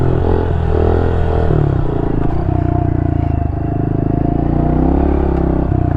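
A 2023 Honda CRF110 dirt bike runs close and loud, its small engine revving with shifting pitch as it lifts into a wheelie, under rattling and wind noise, with no talking.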